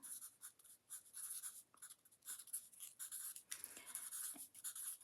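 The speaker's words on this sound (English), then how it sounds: "I'm just gonna write this on here" A pen scratches quietly across a paper budget sheet in short bursts of writing strokes, close and faint, with small pauses between words.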